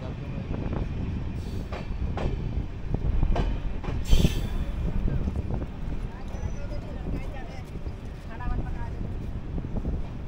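Continuous rumble of the Kanchankanya Express passenger train running past Madarihat, with rail clatter, a brief wheel squeal and wind buffeting the microphone, and a voice talking over it.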